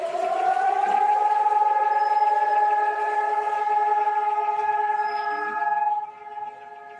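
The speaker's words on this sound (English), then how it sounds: "The air raid siren goes off, and cars stop on the highway, and you get out and you stand." Israeli civil-defense air raid siren sounds for the Holocaust memorial moment, a long steady wailing tone holding at loud volume for several seconds before cutting off, with faint traffic underneath.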